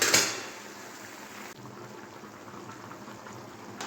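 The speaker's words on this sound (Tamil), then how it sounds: "இப்போ வந்து ஈரல் கிரேவி வந்து வெந்துட்டுருக்கு." Chicken liver gravy boils in a pan, a dense continuous bubbling and sizzling close by, loudest at the very start and then steady.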